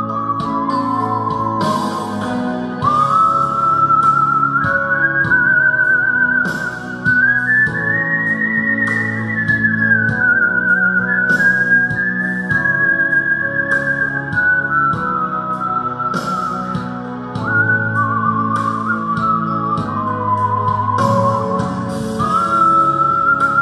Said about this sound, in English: And he's just whistling.